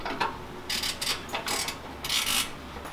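A bolt being threaded and tightened into the exhaust flange of a Honda S2000 during an Invidia Q300 or Buddy Club Spec 3 exhaust swap, heard as several short bursts of close, quick ratcheting clicks with brief pauses between them.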